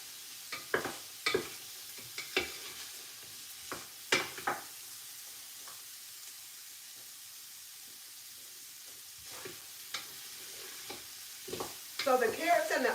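Carrots and onions cooking in a pot for chicken noodle soup, giving a quiet steady sizzle with intermittent stirring scrapes and clatters, close by and with no talking.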